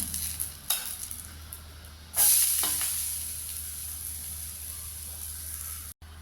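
Pearl millet and finger millet dosa cooking on a hot pan: a sudden loud burst of sizzling that settles into a steady, close frying hiss, with no talk.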